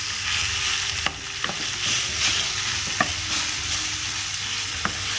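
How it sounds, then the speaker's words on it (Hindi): Marinated chicken for chicken tikka pizza sizzles and fries steadily in a pan, with a few sharp knocks and scrapes of stirring against the pan, close by and without talk. "ये सारा चिकन हमने ना जो मैरिनेट किया था ना, इसको हमने पकाना है"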